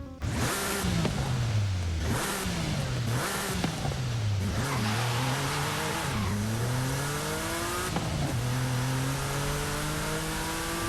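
A Jaguar XJ220 engine revs hard in Forza Horizon 5, climbing through repeated gear shifts with rising and falling pitch. It is loud and continuous, with no voices over it.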